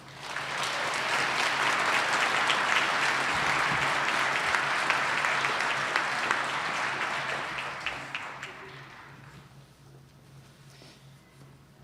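Sustained applause from the audience at a 2021 winter commencement ceremony in Albany, New York. It fills the hall steadily for about eight seconds, then tapers off into scattered claps and quiet.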